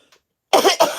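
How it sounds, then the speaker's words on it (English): A person coughs twice in quick succession, close and loud, after a brief near-silent pause with a faint tiny click. "I did one cough like that"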